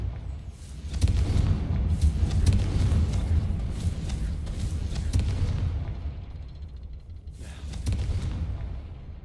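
Booming fire-spell blasts from a Hogwarts Legacy battle, a run of loud bursts and thuds layered over a dense rumbling game soundscape, with a brief lull before another heavy burst near the end.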